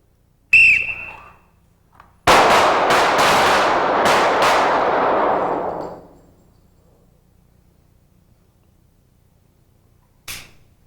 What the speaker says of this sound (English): When the whistle blows, close the eyes, bring the hands back into the box, and shoot off 3 shots